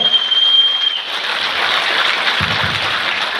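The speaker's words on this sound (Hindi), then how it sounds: "जोरदार तालियां, जोरदार तालियां।" Loud audience applause at a business leadership gathering, a continuous hiss-like roar of many hands clapping from start to finish, with a brief low voice near the end.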